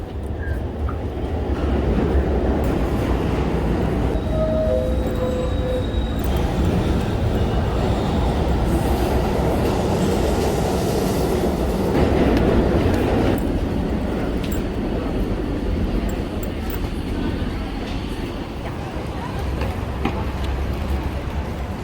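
A New York City subway train rumbles and rattles steadily for the whole stretch, with loud continuous wheel and car noise and a few faint squeals.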